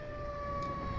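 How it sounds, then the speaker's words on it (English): Ambulance siren wailing in steady sustained tones under a loud, continuous rumble of a ride or vehicle, with no talk. "Comes the ambulance!"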